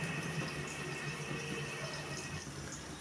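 A little water is poured into a batter of ground cashews, raisins, almonds and poppy seeds for a soybean rezala, a steady, even trickling stream close by.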